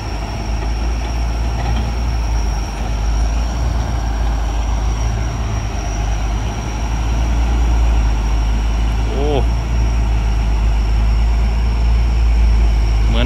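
A new Hino Victor 260 truck's diesel engine idles slowly without revving, a steady low rumble that holds evenly throughout, with a faint squeak near the end.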